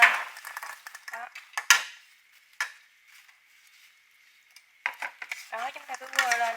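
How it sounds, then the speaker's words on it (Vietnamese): Fried pasta being tossed in a pan with fish sauce, sugar and chili, giving bursts of metal utensil scrapes and clinks with quiet pauses, close and moderately loud, with a voice speaking at the start and end. "chúng ta cứ quơ lên, trộn đều lên"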